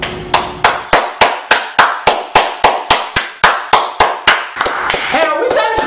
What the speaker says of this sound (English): are we done clapping yet